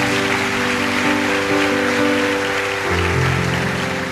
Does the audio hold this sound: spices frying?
no